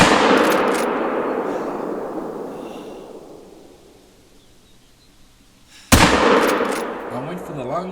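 Gunfire in the hunting game theHunter: Call of the Wild, aimed at a red deer in Bohndorf Canyon: a loud shot with a long rolling echo that fades out, then a second sharp blast with a fresh echo.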